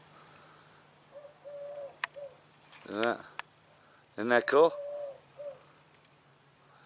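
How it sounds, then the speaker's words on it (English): A dove cooing while it builds its nest, giving two clear low rounded coo phrases close by, with a person speaking softly between and over the calls. "My little buddy the dove, he's building his nest."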